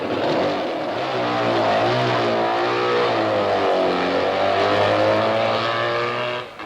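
A twin-cylinder racing motorcycle at the 1950 Isle of Man TT drops to bottom gear and accelerates hard, a loud steady engine roar climbing in pitch for several seconds, with no talk over it.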